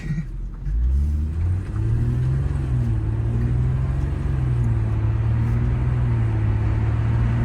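An Audi S1 starts up in comfort mode: the engine catches with a quick rising rev, then settles into a steady, close, deep idle rumble with a slight wavering in pitch.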